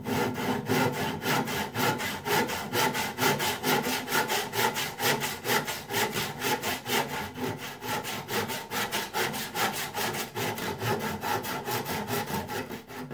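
A hand saw cuts off excess wood from a walking stick, with fast, regular back-and-forth rasping strokes that continue loud and close for the whole stretch and no talking.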